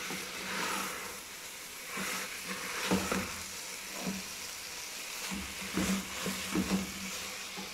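Okra (bhindi) fries in oil in a pan, giving a continuous soft sizzle at close range, broken by occasional stirring scrapes.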